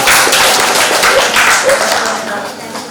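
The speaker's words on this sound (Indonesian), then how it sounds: "Silakan dok, tepuk tangan dulu" Seminar audience of school alumni clapping for a doctor at a health seminar, a close burst of hand claps blending into a continuous patter that slowly thins out, with voices mixed in.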